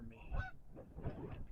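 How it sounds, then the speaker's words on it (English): Canada geese honk while flying overhead at a nature reservation, two or three faint, distant honks in quick succession against outdoor background noise. "that was the Canadian geese"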